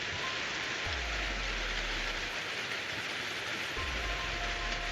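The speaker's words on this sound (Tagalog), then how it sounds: "Kasi malakas yung ulan." Heavy rain falls in a steady, dense roar throughout, with a low rumbling hum rising twice in the background.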